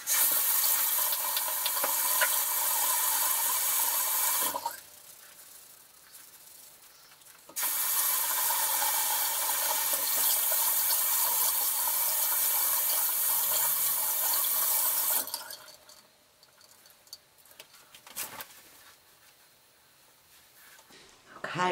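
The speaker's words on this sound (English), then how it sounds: "I'm just gonna be using a different kind of face wash to wash my face" Tap water runs at a bathroom sink during a nighttime skincare routine while a face is washed, two long steady stretches of running water broken by quieter pauses with soft splashing and handling.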